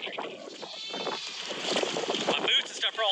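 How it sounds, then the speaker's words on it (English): Baby goats bleat on a homestead farm near the barn, with several wavering cries rising toward the end over outdoor noise and a person talking. "I hear the babies crying, the little goats."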